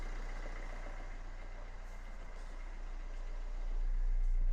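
A car engine idles steadily after an ECU repair, with the ECU loosely fitted following water damage: a low, continuous rumble that stays even throughout and grows slightly louder near the end, with no talking.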